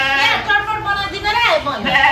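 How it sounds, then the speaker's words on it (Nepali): A goat bleats in loud, wavering, drawn-out cries close by, repeated several times in quick succession. "बाख्राले हाँकाइछ"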